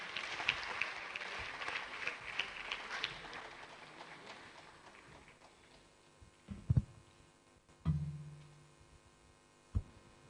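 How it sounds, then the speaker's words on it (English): Applause greets His Excellency King Afo at a World Environment Day event on ending plastic pollution, a broad crowd clapping for about five seconds, then fading into quiet room noise broken by a few thumps. "So with a round of applause, let us invite His Excellency, King Afo. Please, let's clap for him."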